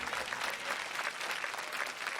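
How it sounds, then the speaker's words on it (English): Graduation audience at a college preparatory academy applauding, a steady wash of many hands clapping, heard from a distance and fairly quiet. "I need for you all to give all of these people a round of applause"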